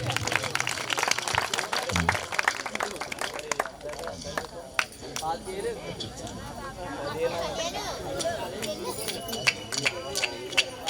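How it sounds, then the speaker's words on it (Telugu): Clapping from an audience at a Christmas church gathering, rapid rhythmic hand claps repeating steadily alongside a crowd and a talking voice. "చప్పట్లు చప్పట్లు కొట్టు."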